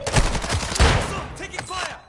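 Rapid bursts of automatic gunfire in Warzone 2 DMZ, loud and close, crackling in dense volleys over about two seconds with a short pause near the end.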